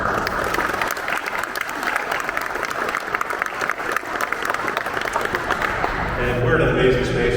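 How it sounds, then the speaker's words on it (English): An audience at an award ceremony in Cincinnati's Music Hall breaks into sustained, dense clapping that fills the hall and stays loud and steady throughout, with some voices mixed in. "So a round of applause for Judge."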